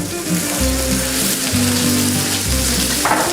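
Butter sizzling loudly in a hot pan before a sirloin steak goes in, a dense crackling fry heard up close over a low steady hum.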